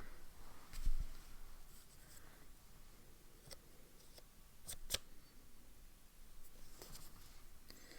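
A pen scratches faintly across paper in soft, intermittent strokes while writing out a Diamine Harmony ink sample, quiet and close with no speech.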